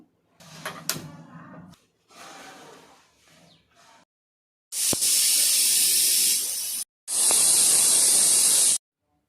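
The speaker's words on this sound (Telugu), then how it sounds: "ఒక గ్లాసు వాటర్ పోసుకొని ఒక 5 విజిల్ వచ్చే వరకు స్టవ్ మీద పెట్టేసుకుంటాను." A pressure cooker of dal with cumin whistles on the stove. Two loud, sharp bursts of hissing steam follow some quieter kitchen clatter, with a short gap between them.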